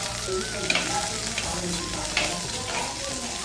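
Onions, coriander and curry leaves frying in hot oil for a village-style tomato kurma, a constant close sizzle with occasional spatula scrapes and stirring knocks, loud and steady with no talking over it.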